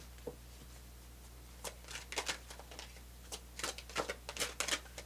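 Oversized tarot cards being shuffled by hand, heard close and quiet as short papery riffles and slides coming in uneven clusters, with soft rustling between them and no talk.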